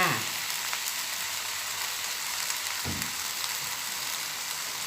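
Yellow leaves and egg stir-frying over high heat in a home kitchen wok, a steady loud sizzle with a few scraping stirs of the spatula, no talking.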